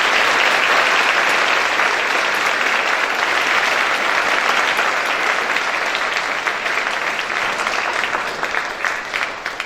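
A school audience at a Veterans Day assembly applauds steadily for about ten seconds, a dense, loud wash of clapping that tapers slightly toward the end.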